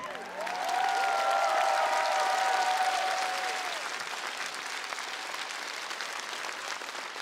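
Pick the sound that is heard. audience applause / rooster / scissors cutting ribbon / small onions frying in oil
audience applause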